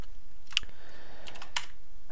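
Typing on a computer keyboard during a coding tutorial: a few crisp keystroke clicks, close and fairly quiet, spaced irregularly.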